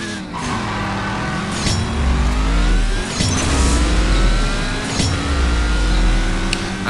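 A Nissan GTR engine in CSR Racing 2 revs hard and climbs through quick gear changes, its loud, close, rising whine broken by brief shift dips, with no talk over it.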